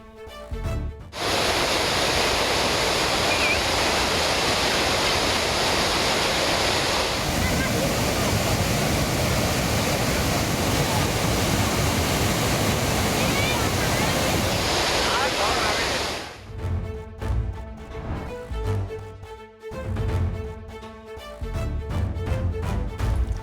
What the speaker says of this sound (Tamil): கேரள மாநிலம் திரிசூரில் உள்ள அதிரப்பள்ளி நீர்வீழ்ச்சியில் தண்ணீர் ஆர்ப்பரித்து கொட்டுகிறது